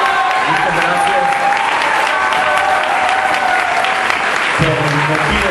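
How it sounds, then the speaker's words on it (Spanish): A church audience applauds a brother who served as interim national president, a loud, dense round of clapping that continues steadily, with a voice speaking over it near the end. "Le pido un fuerte aplauso para nuestro hermano."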